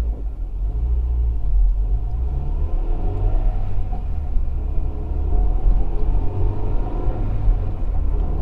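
A Honda Integra Type R DB8 accelerating smoothly on the road, heard from inside the cabin as a steady, loud low engine and road rumble that holds throughout without talk.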